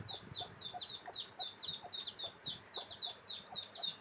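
A broody hen clucking quietly and rapidly, a steady run of short repeated clucks close by against a faint background.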